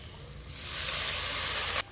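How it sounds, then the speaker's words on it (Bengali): Water poured into a hot pan of spiced potatoes cooked with chili and cumin and coriander powder for biryani, setting off a sudden loud hissing sizzle that swells and holds, then cuts off abruptly. "আলুটা কষে নিলাম, এবার জল দিয়ে দিচ্ছি"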